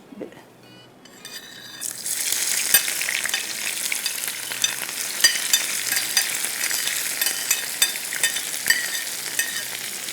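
Chopped onions sizzle and fry in a pan with oil, a loud steady crackle starting after a brief quiet moment, with occasional stirring clinks of a utensil against the pan.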